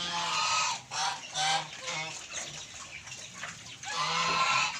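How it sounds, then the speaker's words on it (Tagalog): Pet geese honk repeatedly and loudly nearby, a series of nasal calls in bursts with short gaps between them. "Yan natin yung ating alagang gansa dito."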